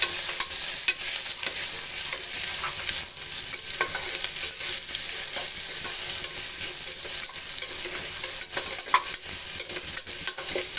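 Garlic and chillies for a rustic village-style chakvat (greens) bhaji fry in hot oil with a dense, continuous sizzle, while frequent stirring scrapes and clinks run through it, close and fairly loud throughout.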